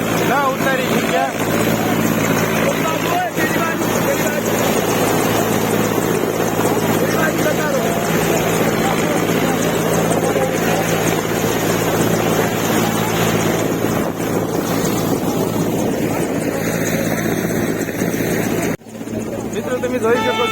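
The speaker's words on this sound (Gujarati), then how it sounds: "અહીંયા હેલિકોપ્ટરનું લેન્ડિંગ થઈ ગયું છે" A helicopter landing near temple grounds during heavy wind and blowing dust, its dense rotor and engine roar loud and steady throughout, with wind buffeting the microphone and voices in the background.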